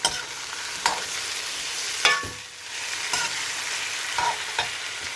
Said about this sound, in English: Now I'm going to saute them a little bit.